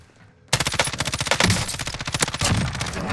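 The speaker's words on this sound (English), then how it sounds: "He was shooting at the other two." Rapid automatic gunfire from a first-person shooter video game, a loud dense burst of shots starting abruptly after a brief quiet moment and continuing in fast rhythmic volleys.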